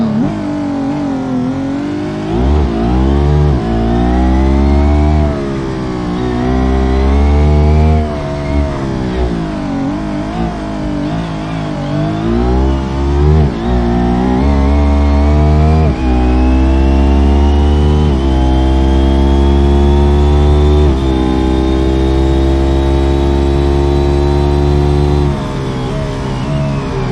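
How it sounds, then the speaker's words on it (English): A loud car engine revs hard and continuously, its pitch climbing and dropping with repeated throttle blips, then rising in a long sustained wail, close and dominant throughout. "This car is so fucking loud."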